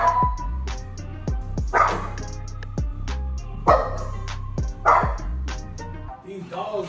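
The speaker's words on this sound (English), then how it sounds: "These dogs barking." Dogs bark repeatedly in short, loud bursts, several in quick succession with brief pauses, some yips and whimpers among them, heard fairly close indoors.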